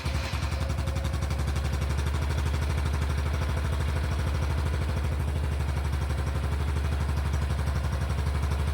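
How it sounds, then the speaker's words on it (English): A Honda Super Cub C125 motorcycle engine catches after a brief start and settles into a steady, even idle with a close, continuous low putter and light mechanical clatter. "So we'll start the bike up like that."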